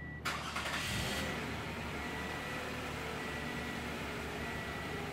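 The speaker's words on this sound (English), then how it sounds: "we're just gonna hit this bottom button with the star on it. Vehicle will prime itself, and then it'll start" A car engine, remote-started with a Viper remote starter, cranks and catches with a sharp burst, then settles into a steady idle hum nearby.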